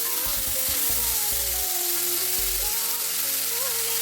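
Cutlet mixture with onions frying in a pan, a loud continuous sizzle and crackle with low thumping stirs early on and a faint tonal hum running underneath.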